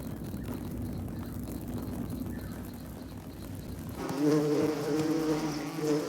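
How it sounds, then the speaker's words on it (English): Bees flying near their hive, a close, steady insect buzzing that drones on, then turns louder and more tonal midway as wingbeats pass near. "when the bees flew back to the hive to gather more workers, the new recruits flew straight past the tunnel."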